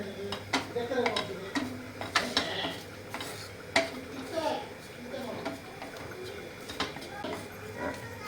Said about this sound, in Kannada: ಇದೊಂಚೂರು ತೆಂಗಿನಕಾಯಿ ಇನ್ನು ಹುರಿಬೇಕಾ ಸ್ವಲ್ಪ ಹೊತ್ತು.